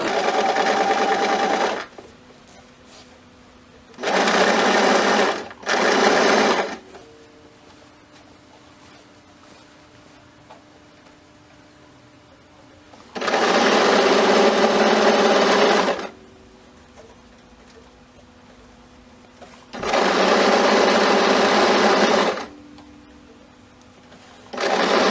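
A sewing machine fitted with a hemming foot runs in four separate bursts of steady, loud, whirring stitching, each lasting a few seconds, with quiet gaps between them.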